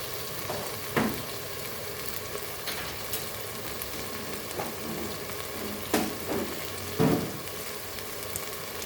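Masala of chili powder, coriander powder and turmeric frying in a pan, a soft continuous sizzle broken by several light stirring clicks and scrapes, with no talking.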